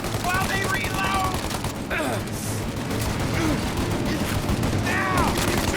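Sustained gunfire during a car chase in Mafia: Definitive Edition, a dense continuous clatter of shots over a roaring vehicle bed, with someone shouting urgently over the din.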